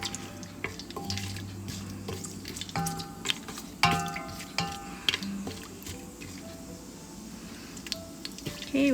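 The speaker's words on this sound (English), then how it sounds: "Let it fry a little bit." Spices frying in a one-pot mutton curry, with soft sizzling under repeated stirring scrapes and clinks of a utensil against the pot, close and moderately loud.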